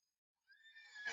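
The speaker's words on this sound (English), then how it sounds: "This is a horse." A horse whinnies, a short rising call that swells quickly and stays bright and fairly close, with nothing else heard around it.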